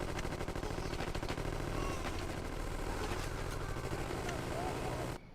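Gangsters 2: Vendetta gunfire crackles through a dense, continuous wash of game noise, small sharp shots scattered over a steady low background before cutting out abruptly.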